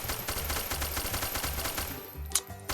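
Rapid, continuous gunfire from enemies shooting at the player in the video game Onirism rattles in a dense, loud stream, easing slightly near the end with a sharp hit.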